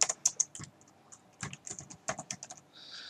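Close, crisp keystrokes on a computer keyboard come in quick bursts and short pauses, a clear run of clicky taps with no voices.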